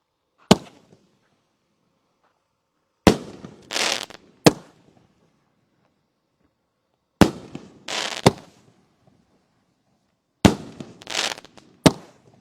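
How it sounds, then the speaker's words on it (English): Large-diameter firework cakes going off outdoors: three volleys, each a sharp loud bang followed by a crackling burst and another bang, separated by stretches of near silence. "it's been a blast lighting off these large diameter cakes"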